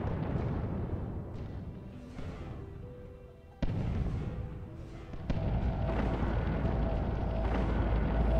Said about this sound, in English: that is about to explode